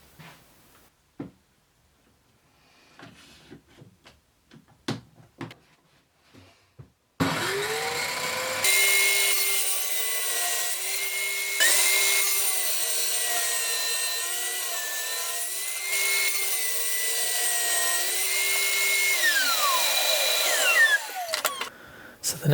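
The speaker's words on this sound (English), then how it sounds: "I've added some extra blocks here to be able to clamp it to the table saw sled as I run it" Table saw cutting angled wood pieces clamped to a sled with extra blocks, made for a modular synthesizer stand: quiet shop clatter, then a loud steady whining cut with shifting pitch that runs for about fourteen seconds before winding down.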